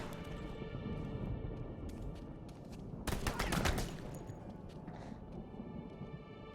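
Gunfire crackles in the video game Alone in the Dark Illumination, a dense burst of rapid shots over a continuous low game ambience, fairly faint overall, with no one talking.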